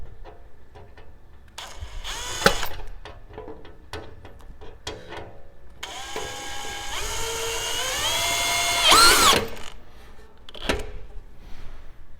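An EJOT LT-TD screw is driven through a panel into a metal frame, with bursts of power-driver whirring that rise in pitch, scattered clicks and handling knocks, and no talk.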